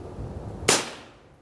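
A single sharp 5.7 pistol gunshot fired over a chronograph, one loud crack with a short decaying tail, heard alone at close range.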